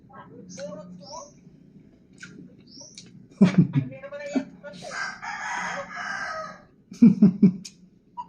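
A rooster crows loudly in two bursts with clucking in between, while people talk nearby.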